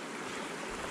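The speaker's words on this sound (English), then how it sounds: "This is Peg Mill Brook" Peg Mill Brook on a winter trail flows with a steady, broad rushing hiss, close and even throughout, and no one speaks.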